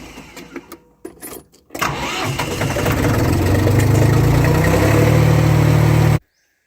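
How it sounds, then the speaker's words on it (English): A tractor engine cranks in a few short bursts, then catches and settles into a loud, steady diesel-like idle that runs for several seconds before cutting off abruptly. "got to get the tractor started"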